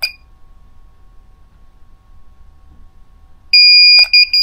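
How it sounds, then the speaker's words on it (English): An electronic device being synced gives a loud, sharp beep followed by a couple of shorter beeps after a long, near-silent stretch. "I heard the beep."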